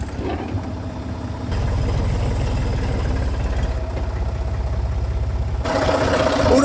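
Tractor engine idling steadily close by, a low continuous rumble with a faint rhythmic knock that grows slightly louder midway, with no talking.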